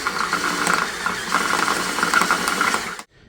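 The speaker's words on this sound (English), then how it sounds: "what a magnet drill we got about now" A magnetic drill runs continuously in a metal workshop, tapping an M10 hole during a handmade Harley Sportster rigid frame build. It makes a steady, close whirring motor drone with a gritty texture, then cuts off abruptly near the end.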